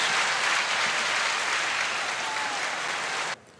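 Audience applause for a swimmer at a swim meet, steady broadband clapping from a crowd filling the hall, continuing evenly for about three seconds before cutting off abruptly.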